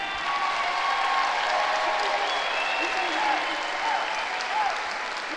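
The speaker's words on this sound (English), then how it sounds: "Y'all go ahead and clap for me as loud as you can." Crowd at a horse training demonstration applauds loudly and steadily, a thick wash of clapping with a few cheers mixed in.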